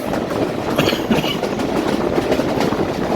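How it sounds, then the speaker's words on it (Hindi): A passenger train on the Attock to Rawalpindi line pulls into Golra Sharif railway station, its steady rumble and rolling clatter continuous and close throughout. "ये रहा गोलरा शरीफ रेलवे स्टेशन। यहाँ पे थोड़ी देर के लिए ट्रेन रुकेगी।"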